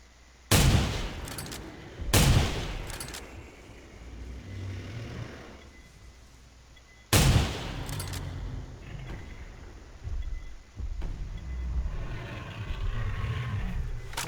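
Gunfire in theHunter: Primal, a dinosaur-hunting video game, comes as a few loud separated shots with rumbling tails spaced several seconds apart over steady game ambience.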